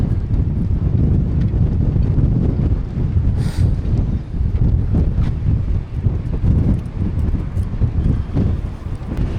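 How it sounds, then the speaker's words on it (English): Strong wind blows in the Scottish Highlands, a steady loud rumbling roar of gusts buffeting the microphone for the whole stretch, with no voices. "Because there is a lot of wind here."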